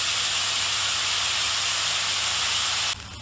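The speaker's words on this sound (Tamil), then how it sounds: "எல்லாத்தையும் மிக்ஸ் பண்ணி நல்லா வதங்கட்டும்" Chopped onions and clams sauté in a hot pan for a Kerala-style clam thoran, giving a steady, loud sizzling hiss that holds evenly, then drops off sharply near the end.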